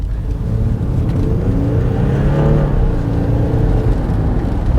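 Audi A8 (2017, D5 generation) accelerating hard on the road, a steady loud engine drone and whir rising slightly in pitch across the run, with no talking over it.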